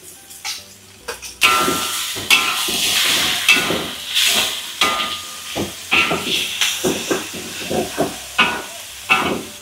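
Meat and liver stir-fried in a hot pan give loud bursts of hiss and sizzle in repeated surges as the pieces are tossed and stirred, close and prominent.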